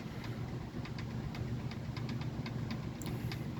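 A 1994 Lakewood Comfort Edge 200i fan runs on low speed, a steady hum with a repeating soft clunk or knock from a faulty blade ticking at an even rhythm, close and alone.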